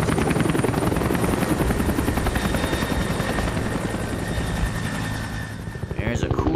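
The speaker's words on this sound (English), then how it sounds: "let's hop in this helicopter and just get away" A helicopter in Hitman: Blood Money flies loud and close, a steady dense rotor chop and engine roar running the whole time, easing slightly before swelling again at the end.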